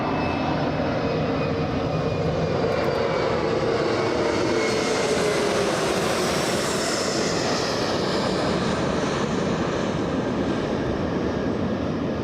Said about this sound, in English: we have SkyWest flying in from Monterey in California